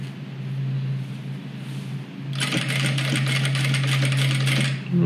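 Sewing machine stitching a hygiene kit bag, a low steady motor hum that breaks into a rapid, loud clattering run of stitches partway through, continuing for a few seconds close by.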